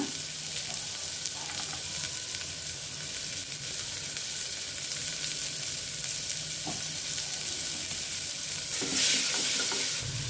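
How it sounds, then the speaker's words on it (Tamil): Chopped large onions with a dried red chilli and curry leaves sizzle and fry steadily in a pan, a continuous close crackle with occasional stirring scrapes and no talking. "வெங்காயம் நல்லா வதங்கிடுச்சு."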